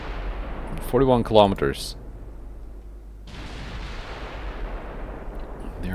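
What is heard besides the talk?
naval gunfire from battleship Alaska in video game Ultimate Admiral Dreadnoughts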